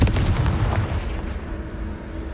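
A Confringo fire spell blast in the Hogwarts Legacy video game, a heavy booming explosion that hits hard at the start and rolls off into a long rumbling decay, loud and alone.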